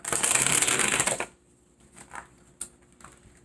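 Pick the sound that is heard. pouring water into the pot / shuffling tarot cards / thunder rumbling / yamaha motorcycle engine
shuffling tarot cards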